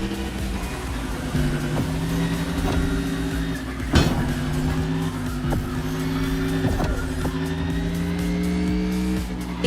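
Race cars roaring along a long island course in The Crew Motorfest, steady loud engine drone with shifting pitch, a sharp impact or bump near the middle and occasional tire noise.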